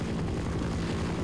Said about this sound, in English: Just all the helicopters going out above us.